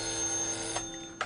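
A telephone rings in a quiet setting, a steady electronic ringing tone held over about a second with a brighter burst near the end, heard alone with no talk.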